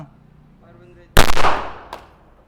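A single handgun shot cracks loud and close at an outdoor firing range, its sharp blast ringing out and fading over about a second, with a faint metallic click just after and quiet murmuring beforehand.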